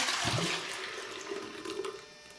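Kombucha tea poured from a container into a jar for a new batch, a gurgling, rushing liquid stream, strongest at the start and then settling into a softer steady trickle, close and fairly quiet.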